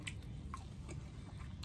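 Garlic-pepper rotisserie chicken being bitten and chewed close up, with a few soft crunchy bites and moist mastication over a steady low background hum.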